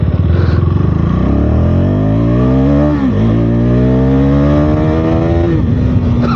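A new 2026 KTM Duke 390R motorcycle accelerates hard in second gear, loud and close, its engine note climbing steeply in pitch and holding high revs, with a brief dip midway as the rider holds on.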